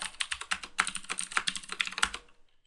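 Close, rapid clicking of keys on a computer keyboard while logging in to a Cisco 2621XM router over telnet, a quick irregular burst of keystrokes that stops near the end with no voices.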